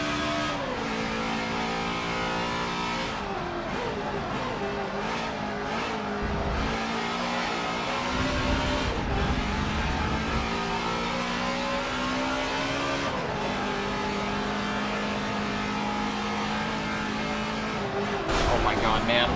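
A NASCAR race car in Forza 7 at Watkins Glen, engine stuck in third gear, droning loud and strained at high revs with a steady, barely changing pitch throughout, occasional tire squeal and brief dips, while a voice talks over it.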